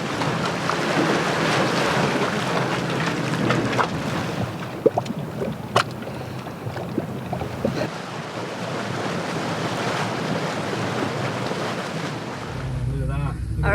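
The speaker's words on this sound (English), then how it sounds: "the Dragon's Mouth Spring, which definitely lives up to its name, with surges of water and steam resembling dragon's breath" Dragon's Mouth Spring in Yellowstone, with hot water and steam surging from a cave vent as a continuous churning roar and rush, mixed with wind buffeting and a few faint clicks.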